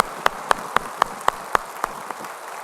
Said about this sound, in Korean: 주님께 영광을 박수 칩시다.